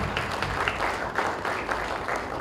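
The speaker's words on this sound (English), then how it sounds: "Can we clap for all the comedians in the building" Audience at a film premiere claps for comedians, sustained dense applause from a crowd, moderately loud and continuous without speech.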